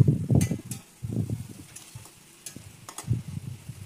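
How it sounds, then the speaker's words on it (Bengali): Spices are stirred with mustard oil in a pan for chicken pasta, with irregular low scraping bursts and sharp utensil clicks against the pan over a faint background. "তো সব মশলাগুলো সুন্দর করে মিক্স করে নিচ্ছি। আরও একটু সর্ষের তেল এখানে অ্যাড করা হলো।"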